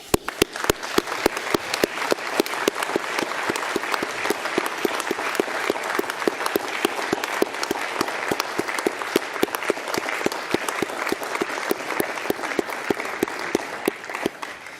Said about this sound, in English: I would like to invite you to put your hands together to applaud them once more